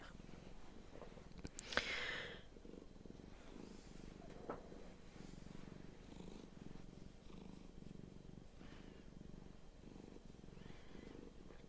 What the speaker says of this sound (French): Le ronron est très très léger.